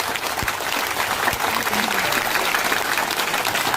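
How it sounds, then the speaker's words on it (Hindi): Children applaud themselves at a school annual function at GSSS Nandiya Jajara, a broad, steady patter of many small hands clapping that fills the space for several seconds. "एक बार तालियां बच्चा अपने आप के लिए।"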